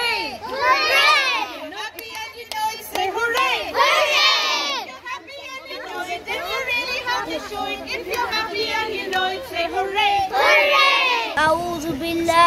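Lower primary children at a summer camp shout and sing together as a crowd, loud and close, with voices rising in bursts of cheering over continuous group chatter.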